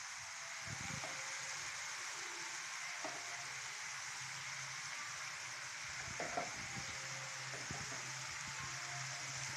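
Yogurt is stirred into a chicken and tinda curry in a pan: a continuous soft sizzling hiss with a few scraping, clattering strokes of the spoon, close and fairly quiet, no voices.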